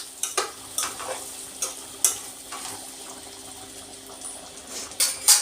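Chicken frying in a pan with egg, ginger masala and garam masala, a soft steady sizzle broken by several scraping stirs of a spatula at irregular intervals, close and moderately quiet.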